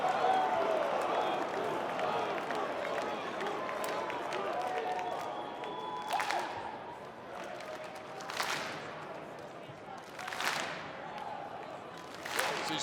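Toronto wrestling crowd clapping steadily in a broad, ragged wash of applause that never locks into a clean beat, with a few sharper bursts of louder claps and cheers rising out of the noise.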